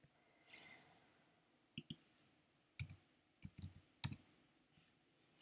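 Computer mouse clicks, a scattered series of about eight sharp, close taps with uneven gaps, some in quick pairs, over a quiet background.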